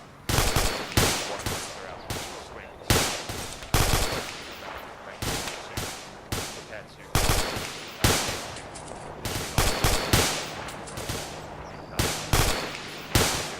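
Section machine gun fire in a military exercise, a string of loud, close bursts and single shots at irregular intervals, each echoing and decaying before the next, continuing throughout with no clear talk.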